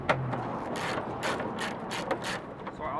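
A hand ratchet clicks in repeated quick bursts while backing out screws to remove a car fender, close and fairly loud, with short pauses between runs and no talk over it.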